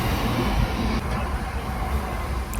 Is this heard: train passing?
yes